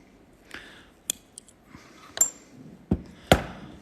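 Stained glass pieces are cut and nibbled with a hand tool, sharp isolated snaps and clinks spaced irregularly, close and crisp against a quiet room, with no talking.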